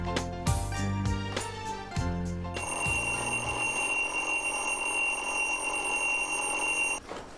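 An alarm clock rings loudly and continuously for several seconds after a few bell-like tones, then stops abruptly near the end, in a comedy drama.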